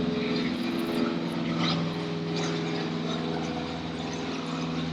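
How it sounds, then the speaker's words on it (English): A small propeller airplane passes overhead, a steady droning hum with a faint buzzing tone that stays moderately distant and fairly even throughout. "A little airplane flying by."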